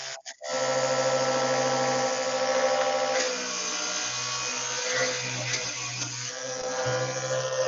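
Foley imitation of a small motor, like a chainsaw, made with a handheld device in a sound room: a steady, buzzing, whining drone that holds for several seconds with slight wavering pitch, close and fairly loud with no talking.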